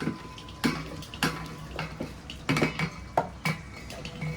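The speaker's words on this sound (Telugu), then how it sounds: "ఇదిగోండి నేనైతే చక్కగా మెదిపేసుకున్నాను పప్పుని" Cooked leafy-greens dal is mashed with a metal utensil inside a large pressure cooker, giving about seven sharp metallic clanks at irregular intervals over a soft wet background, close up and with no talking.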